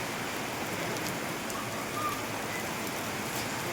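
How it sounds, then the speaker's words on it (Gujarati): Heavy rain falls in a steady, even hiss over a high school garden where cricket is being played, dense and unbroken, with nothing else standing out. "એકદમ ફૂલ વરસાદ ચાલુ છે"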